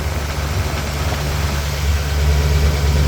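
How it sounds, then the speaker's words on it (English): A 1991 Lexus LS400 engine idles steadily after starting, a loud, close, even low rumble that holds without talk. "So now all there is left to do is start the car up and make sure that there isn't any leaks."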